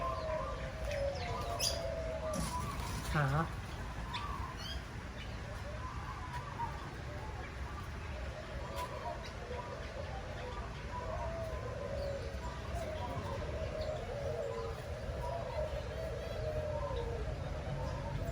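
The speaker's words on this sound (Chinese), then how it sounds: "哇，听得见鸟叫声了。" Many kinds of birds in an Australian bird park chirp, tweet and coo in a steady, overlapping chorus at close to middle distance. A person speaks briefly early on.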